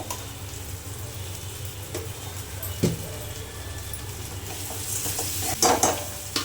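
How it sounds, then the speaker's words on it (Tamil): Onions sauté in a pan for a village-style fish curry, giving a steady sizzling hiss with scraping stirs and occasional louder clatters of the spoon against the pan. "நல்லா வெங்காயம் கொஞ்சம் பொன்னிறமாக வதங்கட்டும்."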